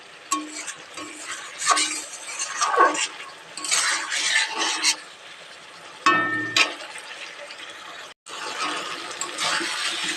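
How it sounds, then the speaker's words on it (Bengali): Fish curry made with rupchanda (pomfret) being stirred in a pan, with a spoon scraping and clinking against the metal over a soft sizzle, coming in irregular bursts with a brief pause. "এটা ভালো করে একটু নাড়তে থাকবো"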